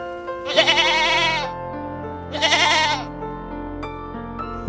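Two loud, wavering goat bleats, the first about a second long and the second shorter after a pause, standing out clearly with no talking.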